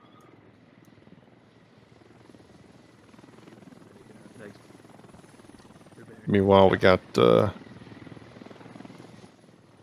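A helicopter in the Squad Ops video game gives off a steady droning whir through the whole stretch, mostly in the background, while a person briefly talks over it.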